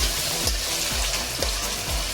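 Ginger and green chilies fry in a pan for a cauliflower dish while a spoon stirs them. A constant close sizzle carries repeated scraping strokes about every half second, with no voice.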